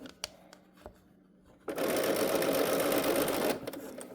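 A sewing machine top stitches fabric near a zipper, starting after a few faint clicks and running in a loud, steady whirring burst for about two seconds before stopping.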